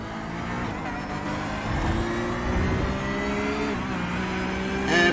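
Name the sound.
GT3 race car engine at full throttle in racing video game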